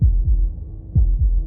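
In Slay the Princess, a second heartbeat lands as two pairs of deep, booming thuds, loud and close over a soft low drone.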